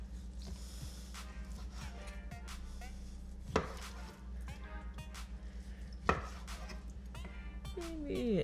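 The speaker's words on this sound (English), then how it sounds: "Now I'm gonna cut this baby into bite-sized pieces." A knife cuts chicken into bite-sized pieces on a board, giving a few sharp, isolated chops over a steady low kitchen hum, with softer scraping and handling sounds in between.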